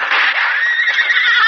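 A horse in a Western radio drama whinnies loudly after being struck by gunfire, a sustained high neigh lasting over a second, alone and close.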